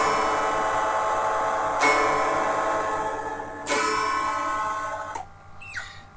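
An electric guitar in drop D tuning strums open strings in a dense, ringing wash, with sharp strum attacks at roughly two-second intervals. It is then cut short into near quiet, with a few faint high tones at the end.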